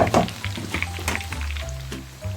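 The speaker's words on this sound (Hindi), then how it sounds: "बस तड़का लगने लगा है।" Garlic and ginger hitting hot oil as a tadka for kadhi pakora, a close, busy sizzle and spatter with stirring clicks throughout, no talking.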